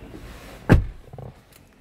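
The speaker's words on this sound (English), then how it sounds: "let's close this door." A single solid thump of a Mitsubishi Pajero Sport rear door shutting, brief and close, followed by a short muffled rattle.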